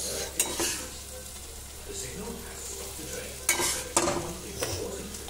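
Mixed vegetables including beetroot are stirred into tomatoes frying in a pan, a steady close sizzle broken by several sharp scrapes and knocks of a spoon against the pan.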